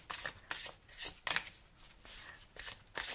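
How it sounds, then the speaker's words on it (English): Thick tarot cards are overhand-shuffled in quick, irregular bursts of crisp riffling and slapping, several close, distinct passes over a few seconds with no talking. "they actually make for a really comfortable overhand shuffle"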